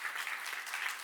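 Applause from an audience at a church Bible seminar, a dense steady patter of many hands clapping throughout the short moment, fairly loud and close with no speech over it.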